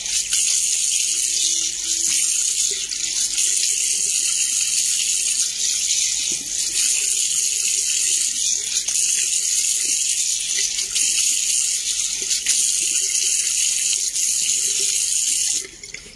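Tap water runs steadily into a sink during face washing, a loud, continuous rushing splash that holds for about fifteen seconds before cutting off near the end, with no talking.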